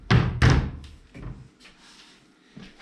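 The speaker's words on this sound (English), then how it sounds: "a freestanding wardrobe, which I'll open up so you can get an indication of storage capacity" A freestanding wardrobe in a furnished room of an Aberdeen flat is opened: two loud, close wooden thunks of the doors, followed by quieter creaks and knocks as they settle.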